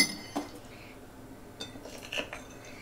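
A teaspoon taking golden honey for tea gives a few light, sparse clinks against glass and crockery, close and soft, with quiet pauses between.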